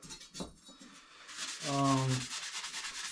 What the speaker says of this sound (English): I have brought the blades up to 120 and then use the red Scotch-Brite.